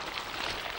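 Rain falling indoors in Silent Hill 4, a soft, even hiss of steady downpour, faint and brief, with no talk.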